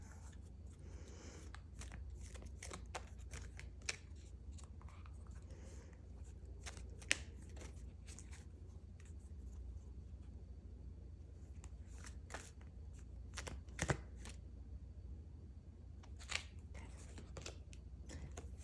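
Oracle and tarot cards being shuffled by hand: soft, quiet riffles and flicks that repeat irregularly over a low steady background hum, with no talking.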